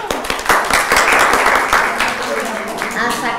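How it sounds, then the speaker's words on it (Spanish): A small group applauds during a psychology session on hypnosis, with sharp individual claps at first blending into a brief, close round of clapping. "¡Un aplauso!"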